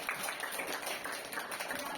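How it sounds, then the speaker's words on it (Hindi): Students at a school assembly clap for a speaker, a dense continuous patter of many hands at moderate distance, steady throughout with faint crowd murmur. "इनके लिए जोरदार तालियां प्लीज।"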